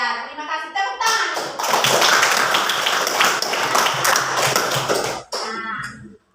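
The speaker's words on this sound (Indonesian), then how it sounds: "Tepuk tangan." Children in a fifth-grade Catholic religion class clap their hands in a burst of rapid, close applause lasting several seconds, with speech heard before and after.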